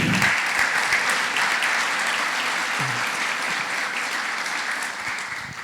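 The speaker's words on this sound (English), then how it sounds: "let's give these 3 a round of applause" A large audience applauds three honorees at a community entertainment event in Walton, a dense, sustained wash of many clapping hands that stays steady and fades slightly at the end.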